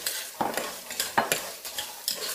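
Coriander root, garlic, black pepper and cinnamon stir-fry in a pot, with quick rhythmic scrapes and clinks of a utensil over a soft sizzle, about six strokes in a couple of seconds, close and without talk.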